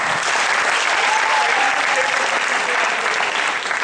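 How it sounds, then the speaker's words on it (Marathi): An audience applauds loudly after the opening of a stage play in Pune, a dense, steady wash of clapping from many hands that holds evenly throughout, close and full, with no voices standing out. "तेव्हा जोरदार टाळ्या"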